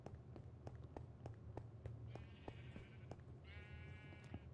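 Sheep in the video game Minecraft bleat twice, short wavering cries over quiet, steady tapping footsteps and faint background hum.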